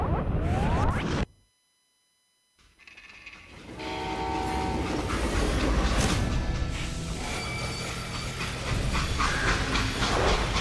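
Freight train in the Call of Juarez Gunslinger video game: a loud, continuous rumble of the train rolling on rails with a horn blast, briefly dropping out before the heavy running noise returns and carries on.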